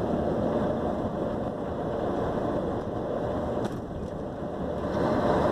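A Mercedes Axor 3344 truck coasts in neutral with a steady low rumble and road noise, engine quiet and unstrained, the sound even throughout.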